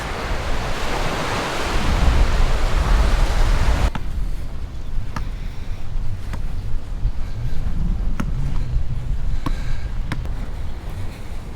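Ocean surf and wind at Ewa Beach on O'ahu's southwestern side, a steady loud wash of breaking waves with gusty wind buffeting the microphone, the roar easing slightly after a few seconds but continuing throughout.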